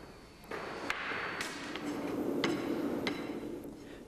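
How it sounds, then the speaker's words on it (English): A flat rammer thuds down on sand packed in the drag of a metal casting mould, giving several dull, moderately close impacts spaced about a second apart over a steady background noise. "The last compaction of the sand in the drag is carried out using a flat rammer."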